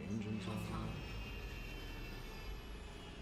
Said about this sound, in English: Turn the engines on.